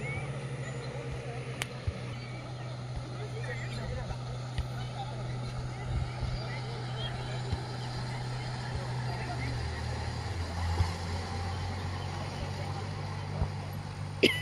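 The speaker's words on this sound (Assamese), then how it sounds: "স্পিড আহিছে, সেইখন শ্ল' আহিছে।" A speedboat's engine drones steadily across Umiam Lake in Meghalaya, a low continuous hum that shifts pitch partway through as the boat passes, with wind and a voice talking over it.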